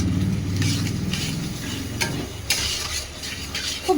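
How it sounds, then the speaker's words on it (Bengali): Spice paste with tomato, salt and a little water is stirred and fried in a pan for chicken biryani. A spoon scrapes rhythmically against the pan under a soft sizzle, with a few clinks toward the end. "এবার মশলাটা আমি ভালোভাবে কষিয়ে নেব।"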